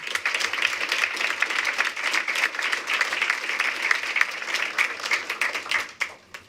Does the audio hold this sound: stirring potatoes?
no